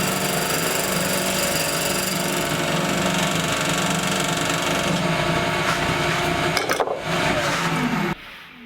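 Wood lathe turning a goblet, shaped with a homemade parting tool: a steady, loud motor hum with a constant whirring tone, a brief scraping catch near the end, then the machine cuts out.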